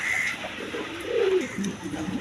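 Pigeons at a wholesale pigeon market give soft low cooing calls, a few rolling coos close by over faint background noise.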